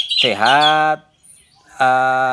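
An orange-headed thrush sings a clear, whistled phrase with a sliding note, a short pause, then another bright sustained whistle, close and loud.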